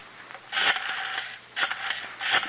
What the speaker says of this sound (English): Wait a minute till I phone Claudia.